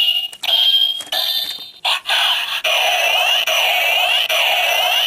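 Electronic chirping and warbling from a Kamen Rider OOO DX Driver toy scanner that was not swiped fully across, a loud high-pitched tone that changes in bursts, then settles into a repeating sweeping pattern.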